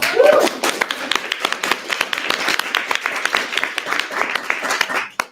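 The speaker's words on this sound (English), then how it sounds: "So give them a big round of applause." Audience applause at a January Jumpstart event, a lively burst of many hands clapping at fairly close range, with a brief voice at the start and the claps tapering sharply at the end.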